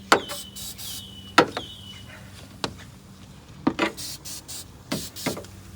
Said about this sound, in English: I'm gonna keep spraying that.